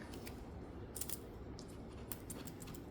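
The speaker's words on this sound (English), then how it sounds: "The washi tape comes off a little bit better." Washi tape being peeled off drawing paper: a faint, soft continuous rasp with a few small crackling ticks as the tape lifts, close and quiet with no talk.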